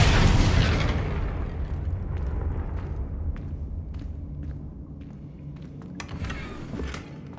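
A Confringo blasting spell from Hogwarts Legacy goes off as a loud booming explosion, then a rumbling tail fades out with scattered small crackles and pops.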